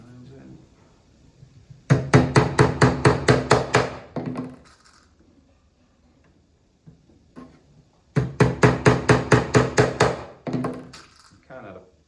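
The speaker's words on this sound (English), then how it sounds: "If you give them a good tap with the hammer, they'll go in there pretty nicely." A hammer drives nails into a wooden nuc hive floor in two separate bursts of quick, evenly spaced blows, each about eight to ten strikes, close and loud, with quiet gaps between.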